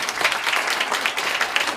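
A crowd at a political party launch ceremony claps enthusiastically, a dense, continuous wash of applause for under two seconds.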